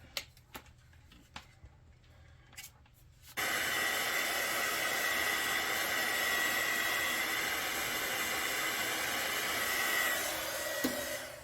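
A handheld heat or hair dryer blows a steady, loud whoosh over a craft piece. It starts suddenly after a few seconds of faint ticking and knocking, then runs continuously to the end.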